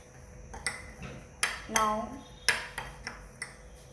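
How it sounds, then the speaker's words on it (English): Spoon clinking and scraping in a dish while mixing ingredients for a no-fire recipe, a handful of sharp close taps and scrapes at uneven intervals. "Now mix it properly."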